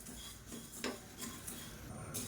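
Flattened red rice (aval) is dry-roasted in a pan, with quiet, intermittent scraping and rattling strokes as it is stirred, all faint and close.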